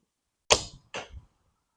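An arrow is released from a Korean traditional bow, a Daylite Majesty 50-pound, using the Onkkakji release: two sharp, close snaps about half a second apart, with nothing before or after.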